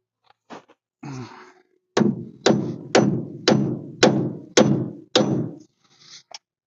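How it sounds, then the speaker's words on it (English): A small ball peen hammer strikes seven times in a steady rhythm, each blow a sharp, close metallic knock, with a few lighter taps before and after, while working on a 1956 Ford milk truck. "I had to go get my little ball peen hammer."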